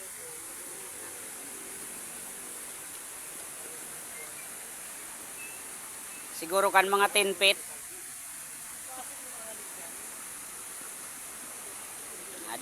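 Fresh water flowing at a natural swimming spot, a steady, soft rushing hiss that runs throughout, with a brief burst of nearby talking partway through.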